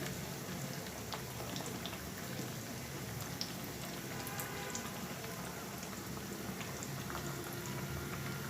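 Onion fritters (piyaju) deep-frying in oil hiss and bubble in a dense, steady sizzle full of fine crackles and tiny pops. The sound is moderately loud and constant, with no voices.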